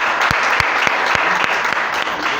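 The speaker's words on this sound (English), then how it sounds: "So we all give a round of applause for her." A group at a devotional gathering applauds a newly initiated member, giving a steady, close round of clapping with a few sharper individual claps standing out over the dense patter.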